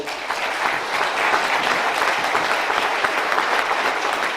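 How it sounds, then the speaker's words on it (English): An audience at a city center dedication gives a round of applause, a full, continuous crowd clapping that holds at a strong, even level for several seconds. "So can we please give a big round of applause?"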